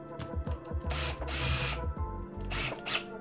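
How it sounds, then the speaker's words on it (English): A power drill whirs in several short bursts, with brief pauses between them as screws are driven in close by. "And drill it in."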